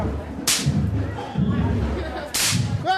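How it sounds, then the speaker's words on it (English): Throwdown snap firecrackers hurled by kids during a Firecracker Night street parade pop in two sharp, loud cracks about two seconds apart, over a busy crowd murmur, with a brief squeal at the end. "There's some kids here with some throwdowns."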